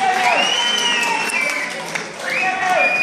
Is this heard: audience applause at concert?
yes